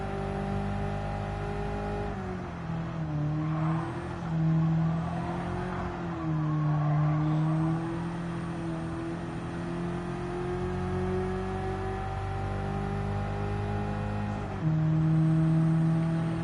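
A 2009 Abarth 500 engine drones steadily from inside the car while driving a lap, holding a sustained hum with small rises and dips in revs as it takes corners, then a brief surge of revs near the end.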